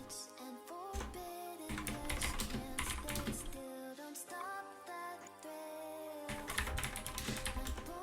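Computer keyboard typing during a Growtopia game session, brisk clicks running under loud music with layered tones throughout.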